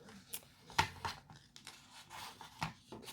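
A cutting tool slicing through a strip of vinyl during a craft project, heard as a few soft, brief scraping and snipping bursts spread over a quiet background, close and faint.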